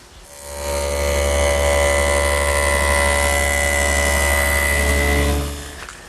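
Table saw with a dado setup cutting a 3/8 inch dado along the front edges of wooden chest side panels, a loud steady whine that spins up, holds for about five seconds, then winds down.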